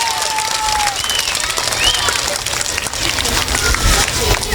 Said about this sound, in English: Let's give him a really big round of applause.